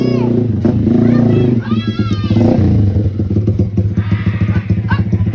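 A motorcycle engine chugs and revs close by, with rhythmic pulsing throughout, while voices talk over it.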